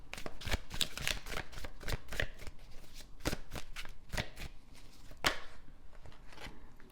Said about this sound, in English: But let's get some more cards from the tarot.